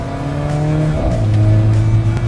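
A 2017 Alfa Romeo 4C Spider with a 1.7-litre turbocharged engine drones loudly from close inside the car, its steady pitch dropping midway with a gear change before the engine pulls on at a lower tone.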